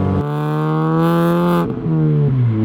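Modified Mini R53 engine pulling hard and loud through the gears, a steady rising harmonic drone broken by two quick gear changes, heard close from inside or near the car.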